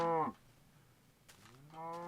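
Cows moo in Minecraft, one drawn-out falling moo followed after a short quiet gap by a second rising moo, both clear and close.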